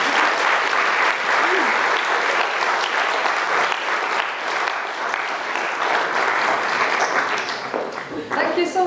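An audience claps steadily and loudly after a team's science presentation, a dense wash of applause that holds for several seconds before thinning at the end.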